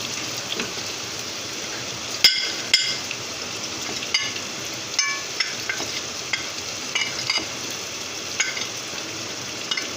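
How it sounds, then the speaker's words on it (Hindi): Chicken karahi sizzles steadily in an iron wok as spices go in, a constant close frying hiss broken by sharp scrapes and clicks of a stirring spoon against the metal. "अब मैं मसाले डालने लगी हूँ।"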